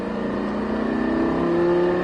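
A Sprint Racing car accelerates at full throttle on the Haut Saintonge circuit, its engine a loud, steady, rising drone heard from inside the car.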